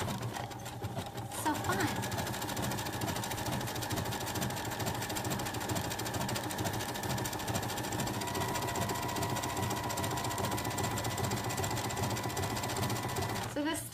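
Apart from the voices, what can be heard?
sewing machine stitching a mock cover stitch on knit joggers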